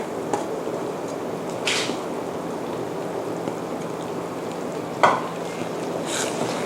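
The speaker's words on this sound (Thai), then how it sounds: "ตอนนี้กะทิเริ่มเดือดแล้วนะคะ" Coconut milk simmers for Thai pork panang curry with pea eggplant and chili, a low steady bubbling hiss with occasional spoon clinks and scrapes nearby.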